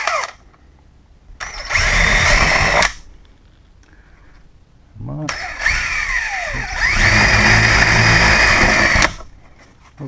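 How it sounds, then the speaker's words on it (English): A power drill with a small bit whirs in two bursts through a door for a digital code lock, the second longer and rising in pitch as it bores through, with quiet pauses between. "drilling through with a small drill bit is a lot better than drilling through with a big drill bit"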